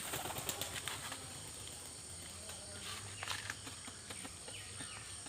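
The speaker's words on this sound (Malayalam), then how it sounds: "അപ്പം നമുക്ക് പ്രാവിനെ വിടാം." A pigeon released outdoors beats its wings, giving a few soft flapping bursts early on against faint background birdsong and insect chirping; the sound is quiet and somewhat distant.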